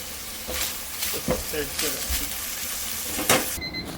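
Baked ham and chicken breast frying in a pan give a steady sizzle with scraping stirs. A voice talks over the cooking, and a brief electronic beep comes near the end.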